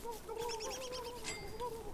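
Turkey gobbling in the video game Don't Starve, a short burst of rapid, warbling bird calls, fairly clear and upfront over quiet game background.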